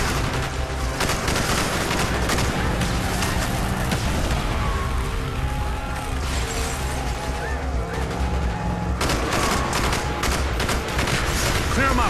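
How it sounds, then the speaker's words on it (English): Sustained gunfire from the video game Call of Duty Black Ops, with dense bursts of automatic rifle fire and booming shots that continue nearly without pause, while voices shout over the battle. "Bowman, Carlos, lay down covering fire."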